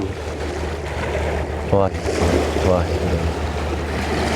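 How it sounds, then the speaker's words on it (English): Broad rushing roar of ocean waves at the shore as the tide rises, a steady wash with wind noise across the microphone and a couple of brief tonal calls or voices cutting through. "As the tide gets closer and closer and closer, the sound gets louder and louder and louder."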